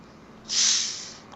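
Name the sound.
plastic soda bottle opening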